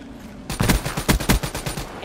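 An LMG in Call of Duty Black Ops III opens up after a brief lull: a loud, close, rapid burst of machine gun fire lasting over a second.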